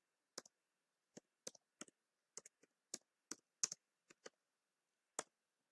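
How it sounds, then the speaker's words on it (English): Typing a telnet command on a keyboard, with sparse, sharp individual key clicks in small clusters against near silence, close and quiet. "I'll open another terminal here and type in the following command."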